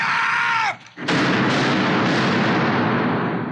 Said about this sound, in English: Bang, bang, bang, bang.